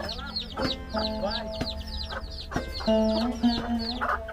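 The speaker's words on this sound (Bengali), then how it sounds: "অনেক মোরগ মুরগি এখানে আমরা দেখতে পাচ্ছি" Several chickens cluck and squawk close by in an irregular, busy chorus, with brief sharp calls scattered throughout.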